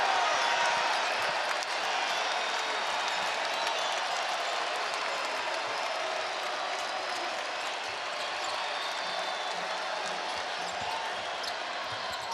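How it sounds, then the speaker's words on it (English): Loud, steady crowd roar and cheering fills a college basketball arena during Michigan State at Illinois on January 13, 2023, sustained without a break across the whole stretch. "Here comes the crowd."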